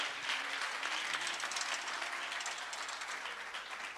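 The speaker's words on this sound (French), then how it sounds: "donnez une bonne main d'acclamation pour ces jeunes qui sont venus chanter la gloire de Dieu" Audience applause for young singers at a Montreal church service, a steady wash of clapping heard at a distance and fairly faint, with no voices over it.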